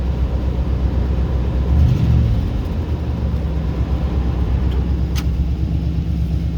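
An old Buick's engine idles after startup, a steady low rumble close by that swells briefly then settles into an even drone.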